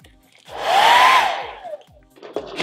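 A handheld blow dryer blasts a hairspray-wet hard front wig hairline, a steady loud whoosh rising and fading over about a second, with faint clicks and handling noise around it and no talk.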